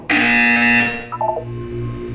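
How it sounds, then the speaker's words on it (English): A loud electronic buzzer from the video game Portal 2 sounds for about a second, harsh and steady, then cuts off into a brief lower tonal blip and a quiet synthetic hum. "You will hear a buzzer."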